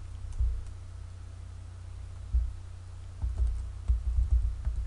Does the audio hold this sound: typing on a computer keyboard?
yes